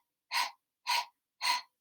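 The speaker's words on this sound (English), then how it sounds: "So starting with the panting" Breath of fire breathwork panting: three sharp, evenly spaced forceful breaths through the nose, close and clear with silence between them.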